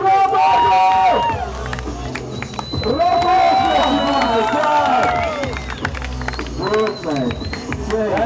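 A lively outdoor crowd cheers and claps for a rider at a BMX pro final, with whistles and a loud amplified announcer talking over the steady applause.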